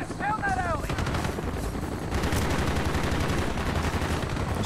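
Sustained machine gun fire in the Call of Duty Black Ops video game rattles in rapid, continuous bursts, loud and dense throughout, with a brief voice near the start.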